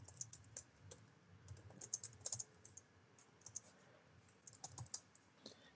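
C++ code being typed on a computer keyboard, a quiet, close series of irregular key clicks and taps continuing throughout with no voices.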